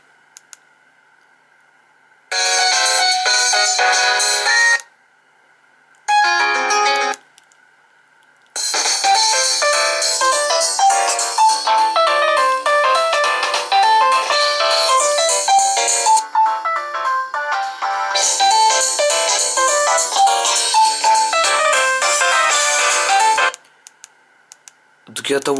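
A Nokia 3110 classic mobile phone rings with a loud polyphonic melody, opening in short bursts and then playing continuously for about fifteen seconds before it stops.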